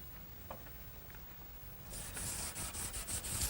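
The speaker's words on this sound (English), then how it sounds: "Now some final sanding with some 220 grit sandpaper" Rhythmic rubbing strokes of 220-grit sandpaper on wood begin after a quieter start, several back-and-forth passes, close and faint.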